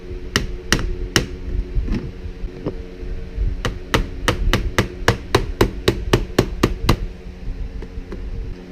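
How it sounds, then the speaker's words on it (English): A series of sharp metallic hammer taps on a clip in a Nissan Versa during a radio install, a few spaced strikes followed by a quick steady run of light taps, close and clear over low background noise. "I'm going to give it a slight little tap with the hammer, not anything hard."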